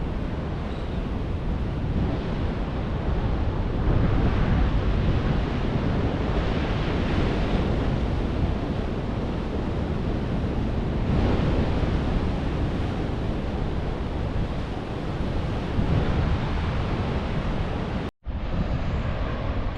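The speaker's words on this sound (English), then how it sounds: "Come the big sets through again, crashing through the old bream spot here." Big ocean wave sets crash continuously onto a surf beach by a tidal pool, a loud, steady roar of surf with wind buffeting the microphone, cut briefly by a sharp dropout near the end.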